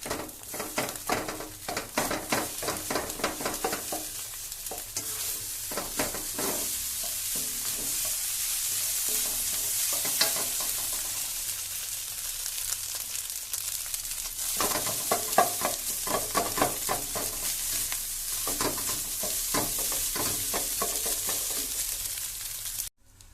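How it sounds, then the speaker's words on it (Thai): Beaten eggs for a Thai omelette sizzle steadily in a hot pan, with repeated scraping and stirring strokes, loud and close, continuing for over twenty seconds with no talk. "แรกเราก็ใส่ไข่ลงไปนะครับ เขาเรียกว่าไข่เจียว"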